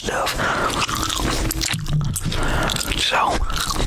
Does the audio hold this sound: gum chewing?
yes